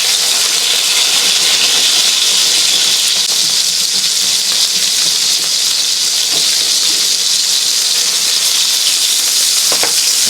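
Pork belly sizzling steadily on a home tabletop iron griddle, a loud, constant close frying hiss with occasional small pops, no talking.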